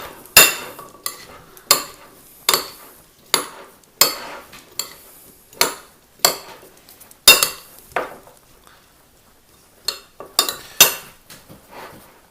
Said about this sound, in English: So I'm just going to mix this up.